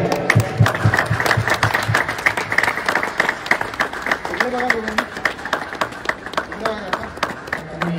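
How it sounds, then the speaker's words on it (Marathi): An audience at a Shiv Jayanti celebration in a residential garden city claps in a brisk, uneven burst while a speaker's voice continues over the applause. "खूप खूप टाळ्या यांच्यासाठी."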